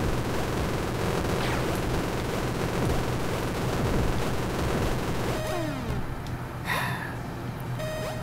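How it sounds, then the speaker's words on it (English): Rapid automatic fire from the machine gun in the retro arcade game Super Crate Box, a dense, loud and continuous stream of shots over game sounds. "Machine gun."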